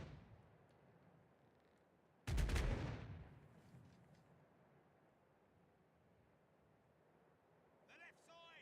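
Ship cannons firing a broadside in the Caribbean Legend naval video game, one heavy booming volley that rolls and decays over a couple of seconds above quiet sea ambience, with a brief voice near the end.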